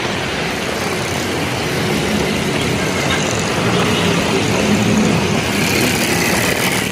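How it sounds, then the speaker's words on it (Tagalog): Dense city traffic near Manila City Hall and Intramuros, a constant loud roar of passing cars and engines with no breaks, heard close from the roadside. "ang ingay ng mga sasakyan"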